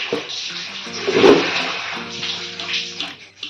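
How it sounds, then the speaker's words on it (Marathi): Cooked rice for chicken tandoori biryani being drained out of its water, giving a steady watery pour and splashing that swells near the middle of the pass and carries through to the end. "राईस सेपरेटिंग चालू आहे पाण्यातून काढतोय साईडला"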